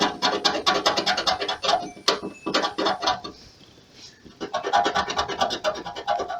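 Loose rust is scraped off the edges of a car body: loud, close, rapid rasping strokes that pause briefly in the middle and then resume at the same steady rhythm.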